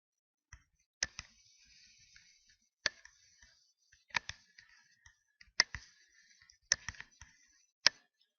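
Mouse buttons click sharply in a quiet room while nodes are dragged out in a network emulator, single and double clicks spaced about a second apart, close and crisp with faint rustling between.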